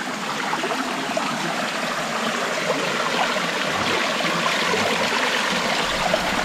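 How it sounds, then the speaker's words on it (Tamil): Cold water runs down a stream from the hills near a temple on the Sathuragiri pilgrimage trail, a steady close rushing and trickling that continues throughout, with no talking. "இங்கே பாருங்க செம்ம ஜில்லுன்னு தண்ணிங்க மேலேருந்து வந்துட்டுருக்கு"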